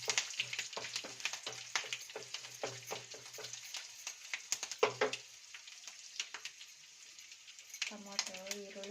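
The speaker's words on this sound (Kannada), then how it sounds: "ಹಸಿ ಮೆಣಸಿನ್ಕಾಯಿ ಎಣ್ಣೆಗ ಹುರ್ಕೊಂಬಿಡೋಣ." Green chillies frying in hot oil in a pan, with a steady close sizzle, crackle and occasional stirring clatter, while a person talks intermittently over it.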